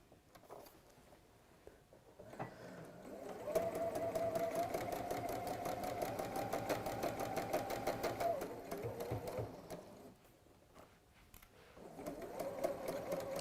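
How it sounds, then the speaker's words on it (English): A sewing machine stitching fabric in a workshop, its rapid needle clatter running in bursts with pauses between seams, close and clear, while a person talks quietly in the background. "I'm trying to be good here and remember to take the pins out instead of sewing over them"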